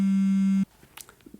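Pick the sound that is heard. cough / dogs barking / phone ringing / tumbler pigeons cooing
phone ringing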